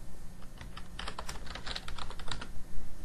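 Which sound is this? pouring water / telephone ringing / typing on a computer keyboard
typing on a computer keyboard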